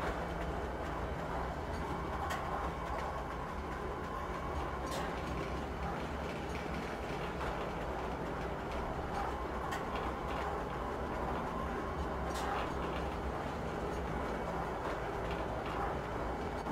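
Steady low rumble of a train arriving at Teasa Spaceport in Star Citizen, with faint mechanical clacks and hisses, continuous and fairly loud throughout, no voices.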